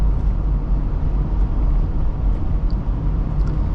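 Steady, loud, low rushing wind and road roar fill the cabin of a 1999 Toyota Land Cruiser on the move, with no talking.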